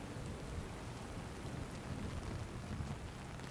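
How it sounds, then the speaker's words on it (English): Heavy, steady downpour of rain with a low rumbling wash that may be distant thunder, in a stormy lighthouse level of the video game Splinter Cell: Chaos Theory, dense and continuous with no talk. "Man, it's really raining."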